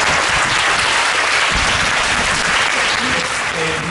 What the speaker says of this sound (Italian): vi faccio anche un applauso.